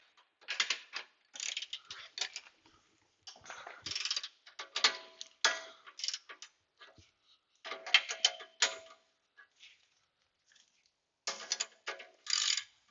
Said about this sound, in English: we'll do it with a long ratchet